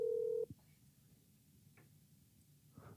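A single short telephone keypad tone sounds at the start as a call is placed, followed by near silence with a few faint clicks.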